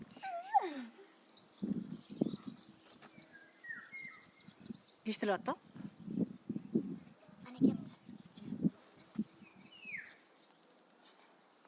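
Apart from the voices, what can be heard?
nightingales singing at home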